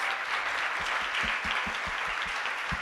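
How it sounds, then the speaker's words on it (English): A steady round of applause from a conference panel audience, dense clapping throughout with a few individual claps standing out. "Round of applause."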